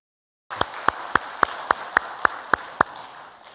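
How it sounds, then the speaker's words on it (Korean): A church congregation claps together in a steady rhythm, with about nine sharp synchronized beats over a soft wash of scattered applause. "다시 한번 우리 격려의 박수 한번 할까요?"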